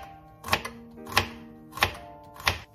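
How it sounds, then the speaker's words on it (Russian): A knife slices celery diagonally on a board in four evenly spaced crisp cuts, close and distinct, with no talking. "Нарезаем сельдерей наискосок"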